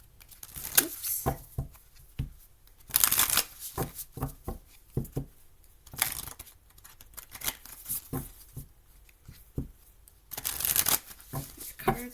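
Tarot cards being shuffled by hand in repeated bursts of riffling, papery flutters and soft taps, close and fairly quiet with short pauses between rounds.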